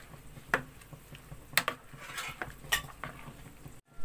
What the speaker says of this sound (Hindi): अब इसमें जीरा, नमक, चाट मसाला शामिल कर लेंगे। अब मैं मिक्स कर लूंगी।